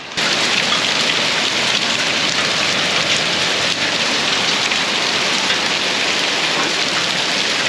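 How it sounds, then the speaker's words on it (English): Hail pelting down outdoors in a storm, a dense, loud, continuous hiss of pellets striking surfaces and a covered car, steady throughout with no voices. "Yeah, it is raining hail this time."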